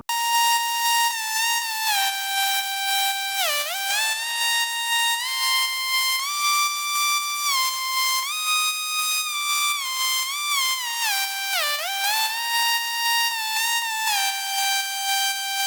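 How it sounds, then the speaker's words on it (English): A bright, reedy synth lead plays a continuous melody with gliding pitch bends and a steady pulsing rhythm, heard alone. "made a counter melody on top that sounds like this"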